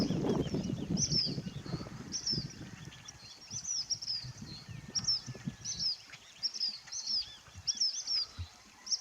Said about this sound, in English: this is a member of the flycatcher family